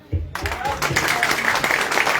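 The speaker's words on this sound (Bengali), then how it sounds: "তাদের জন্য করতালি" Audience applause breaks out after a brief pause, building into a dense, sustained clapping from a crowd, with voices faintly mixed in.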